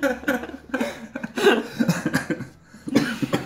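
Several bursts of coughing from a person close by, spread across a few seconds with short gaps, with some throat noise between them and no clear words.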